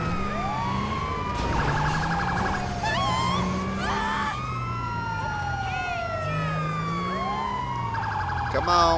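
Ambulance siren in the video game GTA 5, loud wailing and yelping tones that sweep up and down continuously, with overlapping siren patterns throughout.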